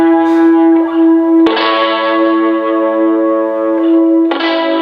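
Electric guitar chords strummed high up the neck, heavily processed with distortion, echo, chorus and reverb, ringing in a loud sustained wash with a fresh strum near the middle and again near the end.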